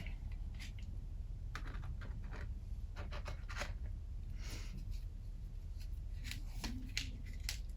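Oracle cards drawn and handled close by, with soft scattered slides, flicks and rustles at low volume against a steady quiet background hum.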